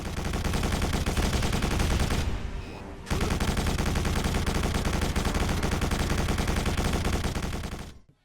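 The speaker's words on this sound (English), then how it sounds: "the gunfire audibly slows down" Dense, continuous machine-gun fire during a vehicle segment in the Quake 4 video game on Xbox 360, loud and rapid with a brief break partway through, the shots dragging and slowing as the frame rate drops.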